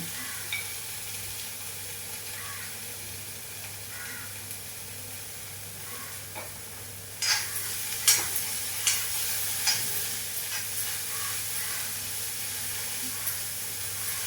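Turmeric and chili powder being stirred into bitter gourd frying in a pan for a tamarind curry: a steady low sizzle with scraping stirs, growing brighter and more active partway through, no voices.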